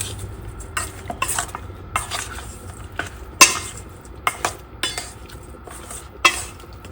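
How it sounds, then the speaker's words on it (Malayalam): A spoon scrapes and clinks against a bowl in irregular strokes, a salmon fish marinade being stirred up close with soft wet sounds between the taps. "നമുക്കിത് നന്നായിട്ടൊന്ന് ഇളക്കി യോജിപ്പിക്കാം"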